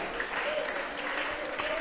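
A church congregation applauds during a sermon, a dense, steady wash of clapping holding at an even level throughout.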